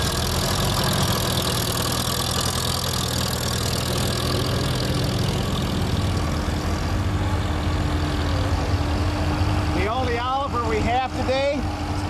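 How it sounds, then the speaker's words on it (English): A 1942 Farmall H antique tractor runs at a steady loud idle-like rumble throughout, with someone speaking over the engine toward the end. "Behind Kent is a 1942 Farmall H"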